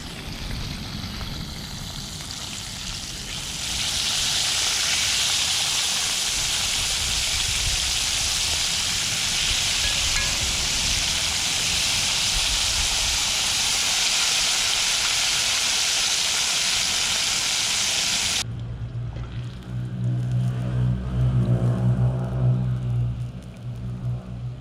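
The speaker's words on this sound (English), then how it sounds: "Sizzling, that goodness." Barbecued fry chicken sizzles on the grill, a loud, steady frying hiss that runs unbroken for most of the stretch before dropping away to quieter sounds and a low voice at the end.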